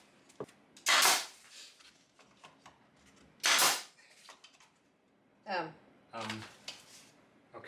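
A pneumatic nail gun drives short nails into wood: three sharp, hissing shots fire a few seconds apart, close and loud, with a person talking between them.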